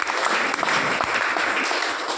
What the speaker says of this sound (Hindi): वहाँ के लिए भी एक जोरदार तालियां बजाइए।